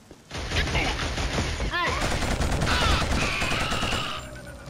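Gunfire in the shooter game Killzone, a steady burst of rapid automatic shots running for several seconds, loud and close, mixed with game sound effects.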